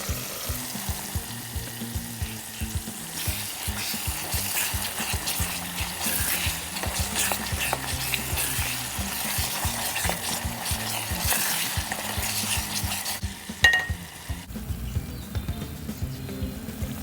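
Ginger-garlic paste frying in a pan with coconut and whole-spice paste for chicken masala gives a steady, close sizzle with stirring scrapes throughout, then a brief sharp clatter near the end.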